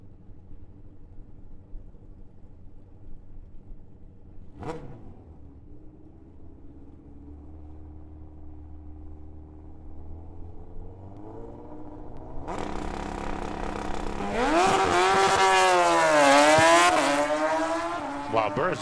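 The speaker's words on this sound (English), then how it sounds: "just did a second burnout" A stretched 1400cc Kawasaki drag motorcycle does a burnout at a drag strip: a quiet stretch with voices gives way to a sudden loud roar and screeching tire squeal in the final seconds.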